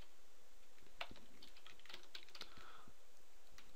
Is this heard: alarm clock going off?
no